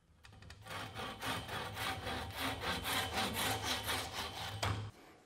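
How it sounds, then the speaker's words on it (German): A hand saw rasps through a wooden axe handle in steady, rhythmic back-and-forth strokes, about a dozen in a row, close and fairly quiet, then stops. "Jetzt schneide ich ihn mit der Säge ab und klopfe dann den Rest noch rein."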